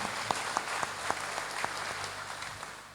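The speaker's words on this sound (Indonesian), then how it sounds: "Tepuk tangan untuk panjenengan semuanya" Audience applause at a Muslim community gathering at an Indonesian embassy event in Brunei, a steady wash of clapping with a few sharper claps standing out, moderately loud throughout.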